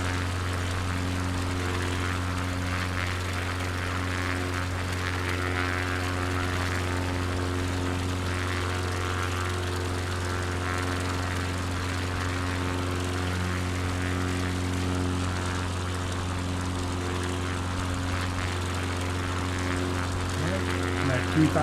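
Propeller airplane engine in Microsoft Flight Simulator 2020 during an Alaska bush flight at about 2,000 feet, a steady loud droning hum with a constant tonal pitch lasting throughout.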